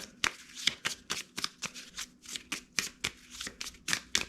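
A deck of cards is riffle-shuffled repeatedly while setting up a Stalingrad 1942 air-campaign board game, producing a quick, rhythmic series of crisp snapping riffles close by, with no talk.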